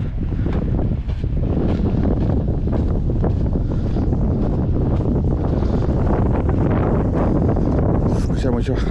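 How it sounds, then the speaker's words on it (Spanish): Strong wind on a hiking trail up a volcano at San Quintín, Baja California, roaring across the microphone in loud continuous buffeting gusts that nearly bury a person talking. "Se escucha mucho, hace mucho viento."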